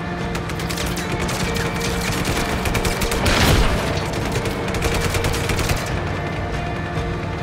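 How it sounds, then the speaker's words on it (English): Enemy gunfire hammering a tank in the video game Just Cause 3: dense, rapid volleys of shots and booms, loud and continuous throughout, with a heavier blast swelling in the middle. "Oh, yeah, they're shooting at me."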